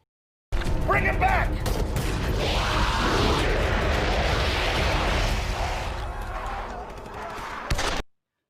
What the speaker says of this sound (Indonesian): Dan akhirnya terjadi baku tembak antara tentara real dan tentara zombie.